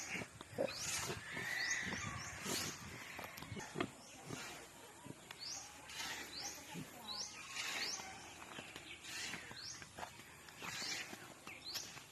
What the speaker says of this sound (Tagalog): Yan, yung baboy dito namin nilagay sa labas.